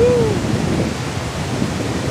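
Spray from a water dam in Bukidnon, a constant broadband hiss like heavy rain, loud and steady throughout.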